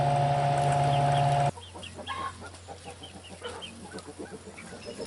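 Chickens in a hobby farm pen cluck in short, scattered bursts after a steady mechanical hum cuts out, several birds calling at moderate distance in a busy, irregular chatter.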